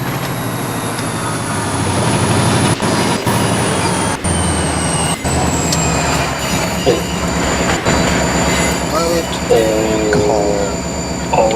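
A PRR SD40 locomotive in a train video game rumbles along at speed with a steady droning engine, rail noise and periodic clicks, while a high squealing tone slowly drifts and falls.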